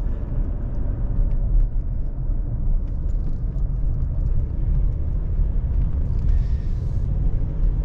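A 1985 Buick Riviera drives along, its engine and road rumble a steady low, continuous drone heard from inside the car, fairly loud with no talking.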